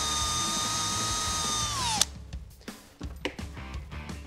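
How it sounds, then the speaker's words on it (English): A power drill bores a hole into the dashboard of a Toyota Tacoma, whining steadily for about two seconds before stopping, followed by scattered clicks and handling noises of the tool and trim nearby. "We're gonna drill our first hole, this one right here."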